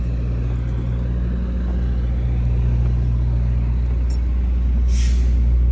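A 1967 Chevrolet Corvette coupe with a 350 V8 and three-speed manual idles with a steady, deep, loud rumble right after starting, the tone constant and close with no voices.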